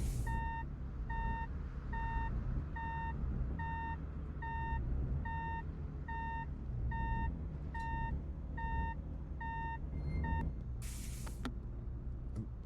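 A ladder truck backs up in the Flashing Lights firefighting game, its reversing alarm beeping in a steady, evenly spaced series over a low engine rumble before a short burst of noise near the end.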